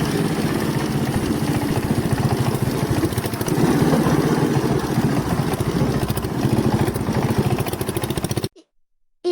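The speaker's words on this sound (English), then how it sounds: "That diesel walk-behind tractor is tough enough to chop through heavy wild plants and prep the soil for" A diesel walk-behind tractor chopping through heavy wild plants on farmland, its engine chugging in a loud, steady, rumbling drone that cuts off abruptly near the end.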